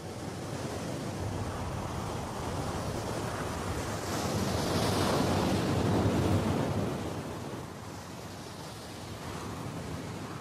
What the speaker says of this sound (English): Late in the season, the southeast winds are blowing